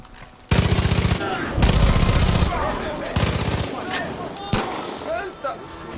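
Loud, rapid bursts of automatic gunfire from the video game Far Cry 5 come in several volleys separated by brief gaps, with scattered smaller shots and impacts between them.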